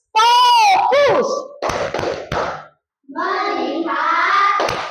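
Fourth-grade classroom with a teacher leading a rhythmic clapping chant; loud, close voices alternate with sharp hand claps in quick patterns, with a brief pause midway.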